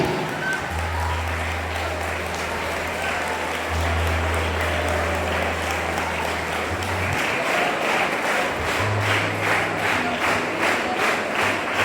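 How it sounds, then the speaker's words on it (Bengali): A crowd at a Labour Day event gives sustained, loud applause, dense clapping that runs steadily for the whole stretch, with a low hum underneath and faint voices in the mix. "হাততালি যাতে বন্ধ না হয়, হাততালি চালিয়ে যান"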